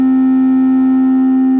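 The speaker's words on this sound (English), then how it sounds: "There's some distortion happening from this one oscillator" A Behringer 914 synthesizer drone patch holds a steady, loud sustained tone with a stacked harmonic chord and faint distortion from one oscillator, unchanging throughout.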